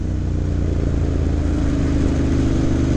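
A 2009 Ducati M1100 Monster's engine holds a deep, steady, throbbing rumble close by, loud and even with no clear revs rising or falling.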